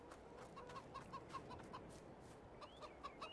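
Chickens in Farming Simulator 22 on a Missouri farm give repeated soft clucks in a quick rhythmic series, followed by a few higher squawks, all faint and steady against low background hum.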